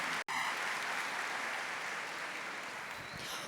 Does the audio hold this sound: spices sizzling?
no